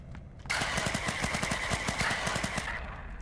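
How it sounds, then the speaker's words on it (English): A nail gun fires in the Cyanide & Happiness battle royale game Rapture Rejects, letting off a rapid, loud mechanical burst of shots for a little over two seconds before stopping abruptly. "we got some ammo for a nail gun now"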